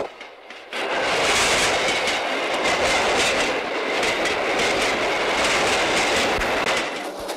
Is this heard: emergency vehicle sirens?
no